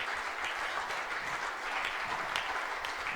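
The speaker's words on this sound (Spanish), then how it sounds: "Si le quieres aplaudir, está bien." Church congregation claps together in a continuous, fairly loud round of applause, many hands blending into an even rattle without speech on top.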